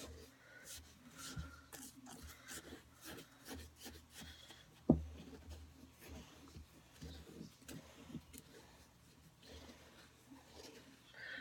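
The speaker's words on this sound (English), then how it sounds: "It's hurting my thumb stirring this." A spoon stirs a homemade salt scrub mixed with oil in a bowl, making a faint, gritty rasping and scraping in uneven strokes, with soft murmuring in places.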